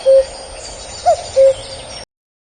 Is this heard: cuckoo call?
yes